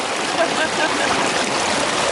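A chilly river on the Pacific Crest Trail runs in a steady, continuous rush of flowing water, close and fairly loud throughout the short stretch.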